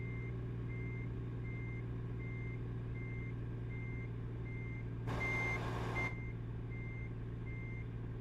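A truck in the video game American Truck Simulator sounds steady reversing beeps at an even, regular pace over a constant low engine drone, and a short hiss cuts in partway through.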